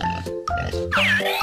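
A cartoon pig in an animated kids' animal game gives a few short oinks and grunts over bright tonal music and a sliding whistle.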